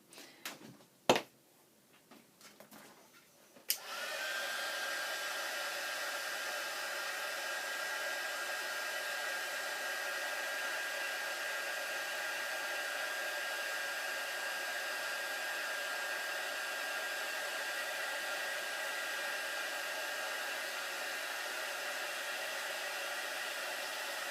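A heat tool blows hot air steadily over paper ephemera for about twenty seconds, a constant whooshing hiss with a faint whine, after a few brief handling clicks at the start.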